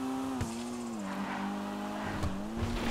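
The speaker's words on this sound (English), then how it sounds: "I actually really do like the turbo noise. The flutter of it." A Maxwell Asbo front-wheel-drive car in GTA V drones steadily with its turbo engine, the pitch dipping and recovering, with short bursts of tire squeal and skidding breaking through a few times.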